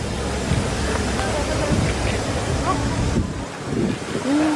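Wind gusting outdoors in a sunny Paris street during the 2024 Olympics, a steady broadband rush buffeting the microphone throughout, with distant city sounds beneath and a brief lull near the end.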